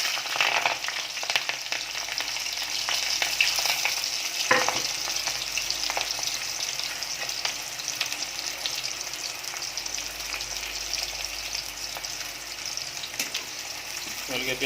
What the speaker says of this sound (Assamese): অলৰেডি মই এতিয়া তেলত জলকীয়া পিঁয়াজ দি দিম।